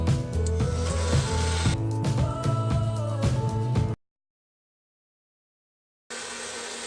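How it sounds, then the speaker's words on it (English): A loud, steady craft heat tool whirs with a motor hum, cuts off abruptly for about two seconds, then starts again. "now I have to just use my heat tool"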